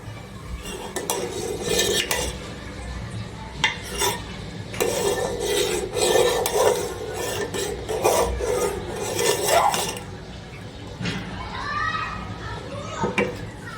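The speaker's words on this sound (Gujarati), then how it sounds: "હવે આપણે હલાવી નાખીશું અને બે ત્રણ મિનિટ ચડવા દઈશું" A spoon scrapes and clinks against a pot while kheer rice pudding is stirred, irregular rasping strokes close by, with someone talking over much of it and children faintly in the background.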